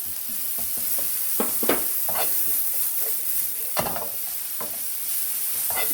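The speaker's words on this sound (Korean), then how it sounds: "따로따로 볶는 이유는 아시겠지만 익는 속도가 다르기 때문에 따로따로 볶고 있고요." Carrot strips stir-fry in a hot pan over high heat for Korean japchae, with a constant sizzle and repeated scraping strokes of a utensil against the pan.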